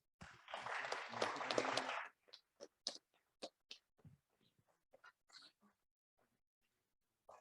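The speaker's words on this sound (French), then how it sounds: "On peut les applaudir." An audience at a wood industry conference breaks into about two seconds of dense, fairly distant applause, which stops and leaves scattered faint claps, knocks and murmurs behind it.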